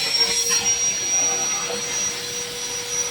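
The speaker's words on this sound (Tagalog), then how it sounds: "gumamit ako dyan ng vacuum mga boss para mahigop ko nga itong mga tumigas na langis dito sa cylinder" A vacuum cleaner sucks up hardened oil sludge from the cylinder head of a Hyundai Accent engine, making a steady, loud, close whine with a thin high tone and a slight drop in pitch partway through.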